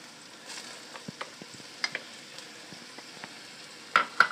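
Shallots for a chicken pot pie sizzle softly in a hot pan, a faint steady hiss dotted with small pops and spoon scrapes, growing louder with a burst of frying near the end, no one speaking.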